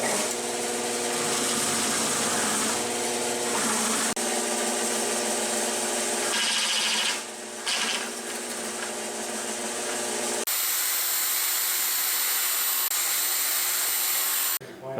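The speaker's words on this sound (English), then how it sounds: "now I'm boring the center to fit the Reeves drive stem" A machine bores the center of a roughed-out spring cover cap to fit a Reeves drive stem on a Yates American B244, a loud steady whine and hum of cutting that carries on almost without a break.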